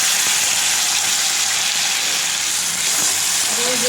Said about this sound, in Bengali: আর এদিকে কড়াইতে দেখো সর্ষে কারি পাতা শুকনো লঙ্কা ফোড়ন দিয়ে